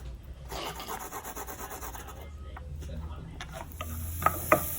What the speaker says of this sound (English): You're going to grate 2 carrots, nice and fine.